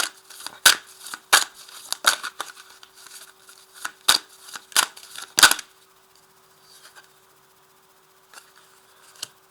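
Tarot cards laid down one by one on a table, a run of sharp close slaps and snaps at irregular intervals, then a quieter stretch with a few faint soft placements, no voices.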